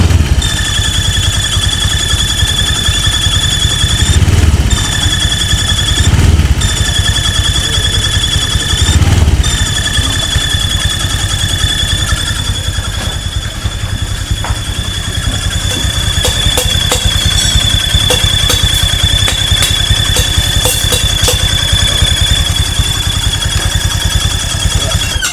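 A Honda Vario 150 scooter engine idles steadily with its CVT removed, a continuous close mechanical drone carrying a high, thin squealing whine and light rattling throughout, with no talking.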